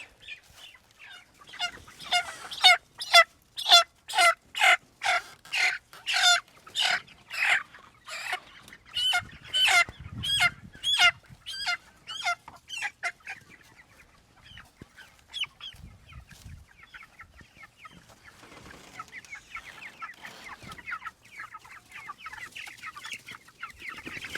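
Chickens being moved by hand cluck and squawk in a rapid, repeated series close by, the calls gradually growing softer and more scattered with faint rustling.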